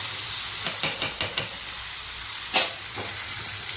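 Steady frying hiss of boiled mutton in a pan with a few short scraping clicks of stirring, then a sharper clatter near the end; no talking.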